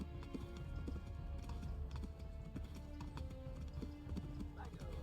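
Horses gallop in the video game Kingdom Come: Deliverance, a steady clatter of hooves with an occasional whinny over game ambience, fairly quiet, with a voice speaking faintly underneath.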